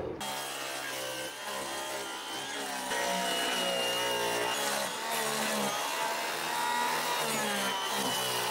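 A power saw cuts steadily through wooden deck boards during a deck demolition, a loud continuous grinding whine that runs the whole time, rising a little in intensity midway.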